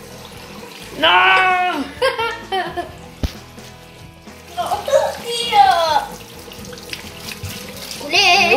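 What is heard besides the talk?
running water while bathing a reborn doll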